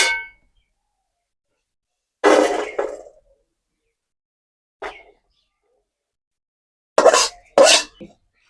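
Fried vermicelli (semai) poured out of a pan, a few short separate scraping and clattering bursts of metal utensil against the pan with silent gaps between them, the last two close together.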